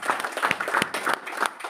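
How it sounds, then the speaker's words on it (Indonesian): Congregation applauding in a church service, a steady ripple of many hands clapping at moderate loudness, with scattered louder claps standing out through the short burst. "Kita kasih tepuk tangan kita berdua."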